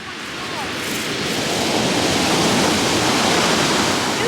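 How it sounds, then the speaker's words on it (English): Ocean waves breaking on a beach form a loud, broad, continuous roar of surf that swells slightly and holds steady, close by, with wind noise mixed in. "Don't you just love the sound of the waves there?"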